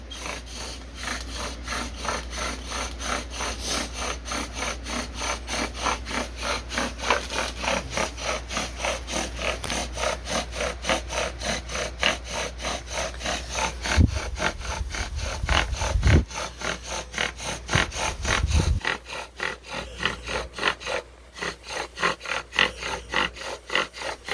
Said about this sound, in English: Marcel is about to try box elder. ACER Negundo Jonka 720-ish with a bow drill.